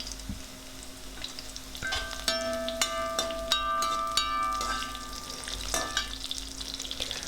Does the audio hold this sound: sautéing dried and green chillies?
yes